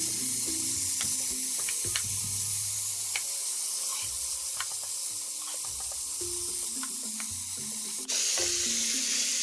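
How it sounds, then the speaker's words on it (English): Bacon sizzling and frying steadily in a pan while cooking Ghanaian oiled rice, a continuous close crackle with scattered pops throughout. "Go ahead and add your bacon."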